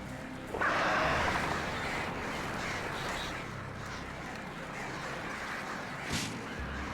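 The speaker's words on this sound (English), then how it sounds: "God, birds." Crows cawing in the Alan Wake video game, a loud burst of harsh caws early on, then fainter scattered calls over a rustling, windy ambient bed.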